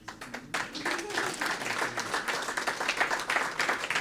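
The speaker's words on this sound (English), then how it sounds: "Alan led that applause" An audience at a Pride celebration breaks into lively applause that starts suddenly and keeps going as a dense, sustained patter of many hands. Cheers and voices are mixed in.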